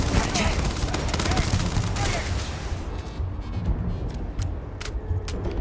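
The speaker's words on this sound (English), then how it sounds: "I did just grenade myself" A grenade goes off during combat in the video game Starfield, loud dense blasts and rapid gunfire for about three seconds, then fading into scattered crackles.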